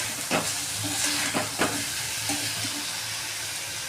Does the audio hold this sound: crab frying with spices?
yes